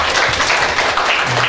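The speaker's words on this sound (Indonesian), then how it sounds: "Coba bisa kasih tepuk tangan dulu." At a Batak church wedding blessing, the congregation gives a short burst of loud, dense clapping. The applause fills the room without pause for its whole length.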